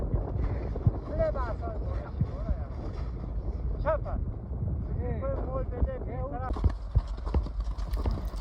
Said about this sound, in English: The donkeys are walking on top of the snow, which is frozen